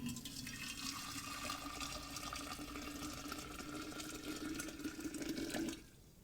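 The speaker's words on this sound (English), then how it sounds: "I have some boiling water, and I'm going to go ahead and dump it inside the jar" Steady rushing stream of boiling water pouring into a glass jar in a sink, with a rising tonal fill for several seconds, stopping abruptly near the end.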